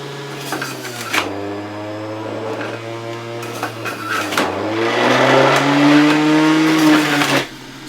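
A Breville juicer running on low speed whines and hums, its motor pitch dipping and rising as it revs down and back up several times, loud and close with crunching of produce and no voices.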